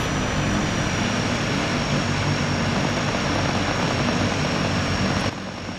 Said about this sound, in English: There's the helicopters.